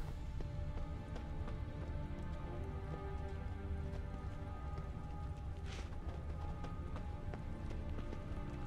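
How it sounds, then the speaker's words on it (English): Steady rain patters continuously in The Witcher 3: Wild Hunt, a soft, even hiss with faint clip-clopping hooves mixed in. "Rain, I like rain."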